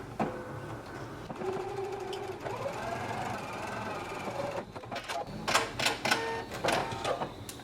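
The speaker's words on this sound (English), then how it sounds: "I'm going to be stitching at a 5/8 of an inch seam allowance, and I'm going to back stitch at the beginning and end of the stitch." A sewing machine stitches the shoulder seams of a McCall's 7630 garment at a 5/8-inch seam allowance with backstitching, a close, uneven run of mechanical whirring broken by sharp clicks and taps.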